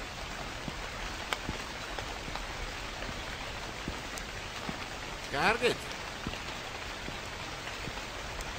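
Rain in a video game falls as a steady patter of drops on surfaces, with scattered sharper drips and a brief burst of another noise midway, while a voice speaks faintly in the background.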